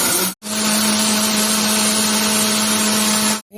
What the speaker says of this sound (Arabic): ونضربهم بقى كده في الخلاط